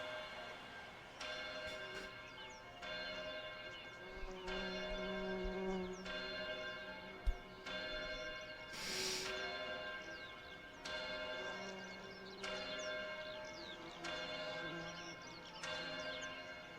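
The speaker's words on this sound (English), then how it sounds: "Are those supposed to be like church bells?" Soft church-like bell tones from a song ring out in a slow, regular pattern of strikes about every one and a half seconds. They sound faint and distant over a quiet musical backdrop.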